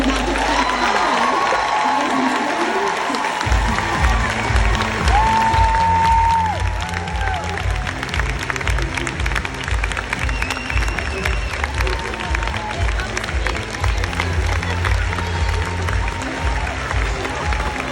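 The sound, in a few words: audience standing, cheering and applauding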